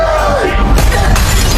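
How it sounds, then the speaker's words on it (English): Skylight glass smashed open with a loud, sharp shatter, followed by crashing debris and a tumult of yelling voices. "Daisy smashed open the skylight"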